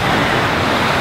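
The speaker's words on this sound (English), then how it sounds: "just look at this beach though" Ocean waves washing on a beach at Ilig-Iligan in Boracay, Philippines, a loud, continuous broadband roar of surf mixed with wind buffeting the microphone.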